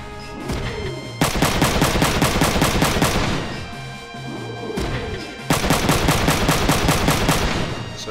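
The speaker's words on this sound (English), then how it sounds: "all of these guys only have machine guns" Rapid, loud machine gun fire from Front Mission 3 plays as continuous rattling bursts, with a brief lull between two long volleys.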